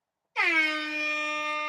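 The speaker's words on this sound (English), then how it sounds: "Flo gets the air horn." An air horn sound effect bursts in after a short silence and holds one loud, steady blast to the end.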